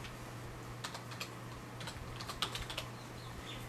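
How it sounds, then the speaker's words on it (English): Quiet clicking of a computer keyboard as a command is typed at a Windows 7 prompt, short bursts of keystrokes over a low steady hum, no voices. "So within the command prompt, type in Reg Edit."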